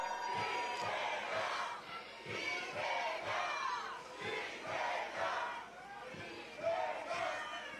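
A large crowd at a rainy outdoor campaign rally in Gwangyang roars and chants together in loud rhythmic waves, with repeated shouted bursts and a deep drum-like thump beneath.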